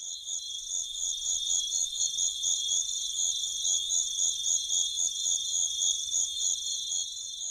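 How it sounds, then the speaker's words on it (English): A dense, continuous buzzing chorus of insects, with shrill steady tones over a fast pulsing chirr that repeats throughout. "The saturated buzzing of the natural world"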